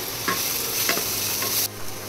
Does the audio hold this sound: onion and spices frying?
yes